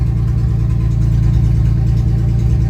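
A Chevrolet S-10 project truck engine idles steadily and loudly up close, a deep, even rumble with no break, while it smokes from a tube leading to the exhaust manifold.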